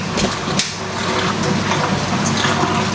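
Whirlpool and Maytag washing machines both pumping out water at once, a steady, loud rushing gush of draining water with no break, heard close by without anyone speaking.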